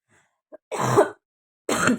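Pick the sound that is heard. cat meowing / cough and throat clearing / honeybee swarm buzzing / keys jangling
cough and throat clearing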